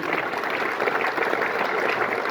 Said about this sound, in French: Est-ce qu'on va applaudir pour ce merveilleux?